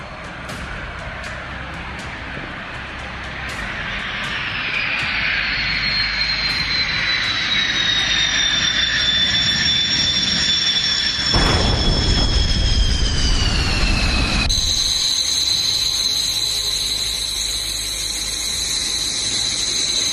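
A Hawk jet trainer flies over Kalaikunda airbase near Medinipur, its loud sustained engine roar and high whine rising as it closes in, peaking overhead, then shifting pitch as it passes.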